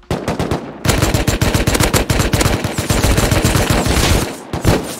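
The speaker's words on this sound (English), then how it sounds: "Bro, I just shot at him" Rapid automatic gunfire from the survival game Rust rattles in loud, continuous bursts of tightly spaced shots, briefly pausing near the start and tailing off at the end.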